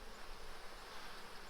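Honeybee drones buzz on a heavy food frame pulled from a hive, a faint, steady, unbroken drone with no voices.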